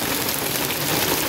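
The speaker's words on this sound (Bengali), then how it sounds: "অনেক জোরে জোরে বৃষ্টি শুরু হয়ে গেছে" Heavy rain pours down in a dense, steady hiss with no other sound rising above it.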